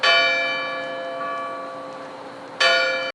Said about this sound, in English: Number 7. Church bells.